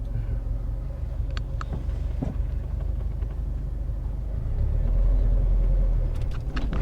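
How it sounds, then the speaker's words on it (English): A manual Subaru car engine runs steadily near at hand, a low continuous rumble that swells louder for a couple of seconds toward the end before easing back. "You're listening to the engine."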